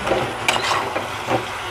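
Fried chicken leg pieces being stirred into a sauce in a pan for a Chinese chicken dish, with a low sizzle throughout and a few soft scraping strokes spread across the moment, no voices.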